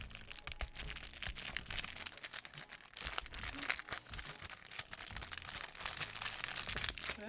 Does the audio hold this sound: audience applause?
no